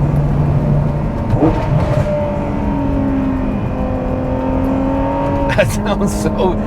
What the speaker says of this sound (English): You get these awesome, incredible pops and crackles and bangs on the really high RPM downshifts.